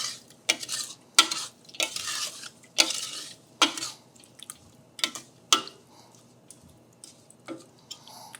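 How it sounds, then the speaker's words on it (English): A spoon stirs cherry sauce with lemon juice and sugar in a pot, giving a run of separate scraping strokes, some spaced, some in quick pairs, close and clear with no talk. "Let's give that a good stir."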